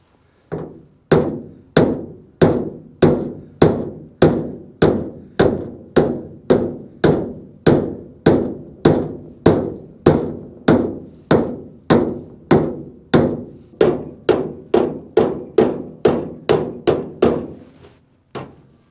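Hammer tapping out a dent in the steel hood of a 1983 Ford F150, about thirty crisp metallic taps at a steady, even pace, each ringing briefly, close and fairly loud.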